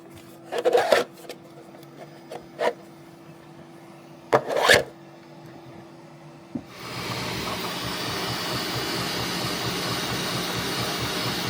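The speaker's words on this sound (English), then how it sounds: "There it is, merrily printing away the lid." A few sharp knocks and rubbing sounds come first, then a 3D printer starts up printing the lid of a drone case, settling into a steady, even whir of motors and fan that holds to the end.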